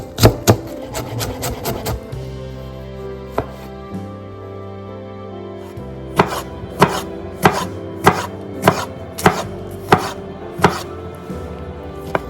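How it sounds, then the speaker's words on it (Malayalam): A knife chops onion finely on a board in a kitchen, first a quick flurry of taps, then a pause with background hum, followed by a steady series of crisp, evenly spaced chops close by. "സബോള കുരുക്കുരാന്ന് നൈസായിട്ട് കുരുക്കുരാന്ന് തരിക"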